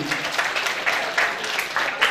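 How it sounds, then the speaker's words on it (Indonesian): A crowd of Islamic boarding school students claps together at a motivation session in brisk, dense applause that carries steadily for a couple of seconds, with slight surges in intensity. "Tepuk tangan untuk santri-santri."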